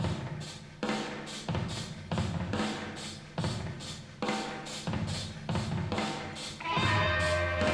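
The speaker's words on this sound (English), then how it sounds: "So that's pretty characteristic chamber reverb sound." Drum kit played in a large foyer with natural chamber reverb, steady rhythmic hits ringing out with a long, roomy tail, loud and alone with no talking.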